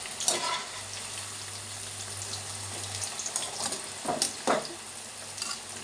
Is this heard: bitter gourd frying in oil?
yes